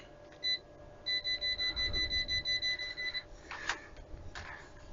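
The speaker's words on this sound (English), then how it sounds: "So you just have your cable close by and it starts to beep." A Kaiweets ST600Y multimeter emits a rapid string of about ten high, even beeps while detecting voltage without contact near a cable, fairly close and alone, followed by faint handling noise.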